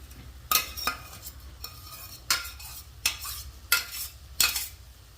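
A spoon stirs a beetroot and chana dal curry in a pan, making six sharp scraping strokes spaced roughly every half to one second over a soft background sizzle.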